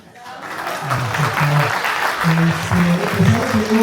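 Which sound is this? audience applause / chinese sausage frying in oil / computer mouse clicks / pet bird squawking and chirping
audience applause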